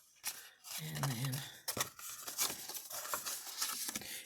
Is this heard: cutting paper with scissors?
yes